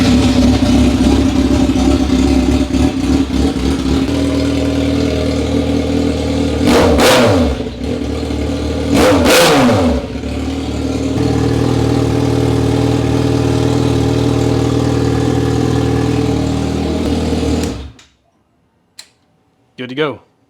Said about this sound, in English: start the bike, let it run